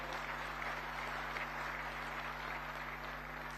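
An audience applauds a speech about disaster management, steady dense clapping throughout at moderate level with a faint electrical hum underneath.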